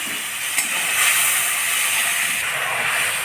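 Spice paste hitting hot oil in a pan after dried chillies and whole cumin, for a sola kochu ghonto with Gobindobhog rice: a loud, steady broadband sizzle with a brief sharp crackle near the start, no voices.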